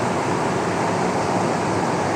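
The Kudengrim waterfall gives a steady, dense rushing roar with no breaks or other sounds, broad and even throughout.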